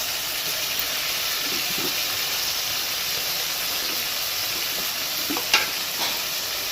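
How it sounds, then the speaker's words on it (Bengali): Tomato frying with ground coconut and spices in a pan, a steady broad hissing sizzle that holds evenly, with a couple of faint utensil taps near the end. "টমেটোটাকে একটু ভেজে নেবো যতক্ষণ না নরম হচ্ছে"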